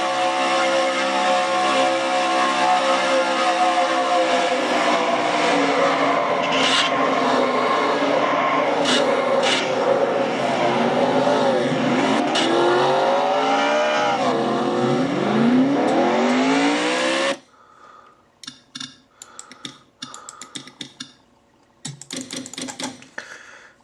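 Race car engine heard from onboard in a stock car series racing video game, loud sustained roar with rising and falling revs through gear changes for about seventeen seconds, then cutting to quieter, choppy bursts of engine sound.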